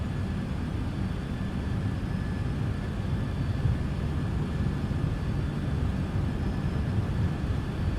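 Simulated UPS MD-11 engines roar at takeoff power during the takeoff roll in Microsoft Flight Simulator 2024, a steady, dense broadband rumble with a faint high whine running throughout.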